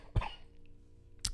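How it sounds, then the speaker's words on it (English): Two short, close coughs, one near the start and another just over a second later, each a sharp burst with quiet room tone between them. "see, here's that cough."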